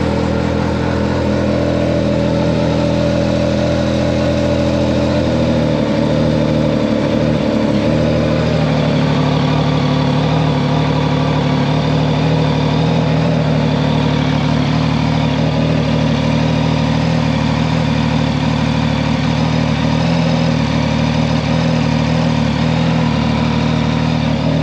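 A 2022 Yamaha MT-09 motorcycle engine idles loudly and steadily up close, holding a constant low rumble throughout with a slight shift in tone partway through and no talking.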